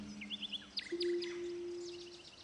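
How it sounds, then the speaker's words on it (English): Game bird from the audio game Sonar Islands passes by, with several quick high chirps and a sweeping call followed by a long steady tone, moderately close and clear against a quiet background. "did you happen to hear the bird as it flew by?"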